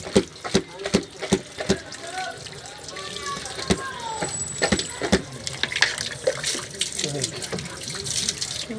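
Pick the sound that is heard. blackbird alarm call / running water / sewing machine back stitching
running water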